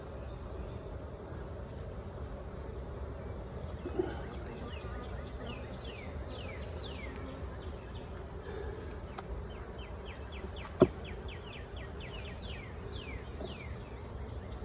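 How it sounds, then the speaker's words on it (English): Honey bees on brood-filled hive frames buzz in a steady, faint drone throughout, with a soft bird call or two and a couple of sharp clicks. "And lots more worker bee over here."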